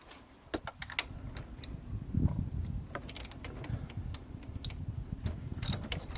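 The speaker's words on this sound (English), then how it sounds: "Just grab your extension, your ratchet, and your socket." A ratchet with an extension and socket tightens the oil drain plug on a 2007 Pontiac G5, giving off quick, light clicking bursts close by over a low background rumble.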